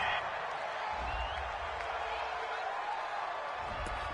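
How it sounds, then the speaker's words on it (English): A home crowd in a PS4 football video game gives off a steady, distant roar of cheering that carries on without a break. "This home crowd, they're happy with that call."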